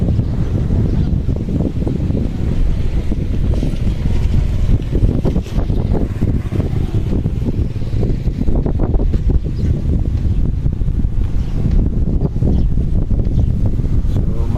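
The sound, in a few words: boats on river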